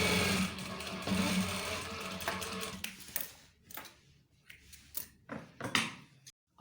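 A sewing machine runs a seam along the edge of a trouser fly on police uniform pants, a loud, fast mechanical whir for about three seconds, then slows into short bursts of stitching and clicks before stopping.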